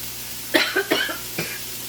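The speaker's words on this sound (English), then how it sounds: "I'm sorry if I'm coughing." A person cooking shrimp at a stove gives a short run of three or four sharp, close coughs, one after another in quick succession, then a last, softer cough after a brief pause.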